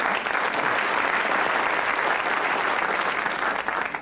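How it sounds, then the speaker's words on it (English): Studio audience at a 1984 television Scrabble game show applauds steadily, a dense, even wash of clapping that holds at full strength for the whole stretch and only slightly thins at the very end, with no voices over it. "They are applauding for form's sake."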